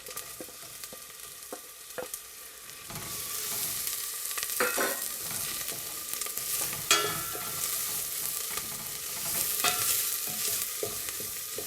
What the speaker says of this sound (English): we're now going to add 5 spring onions that we've sliced